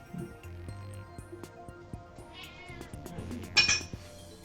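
A short cat meow sound effect in the Spirit of Justice courtroom game, heard briefly over soft game music with light clinking tones.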